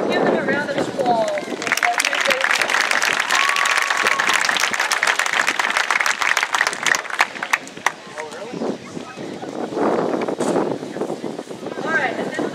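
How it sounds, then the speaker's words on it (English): Crowd applause in a gym for the junior varsity volleyball teams, loud sustained clapping mixed with cheers and whoops, continuing for several seconds with voices calling out over it. "Let's give them a round of applause"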